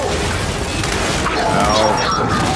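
Heavy, continuous booming of rocket fire and explosions in a Gears 5 battle, loud and dense with crashing impacts throughout, layered under brief chatter.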